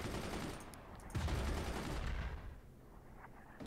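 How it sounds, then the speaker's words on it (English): Machine guns firing in the Forts video game, sustained rattling bursts of gunfire that swell and then taper off, loud and alone without talking. "Use your machine guns to defend the fort."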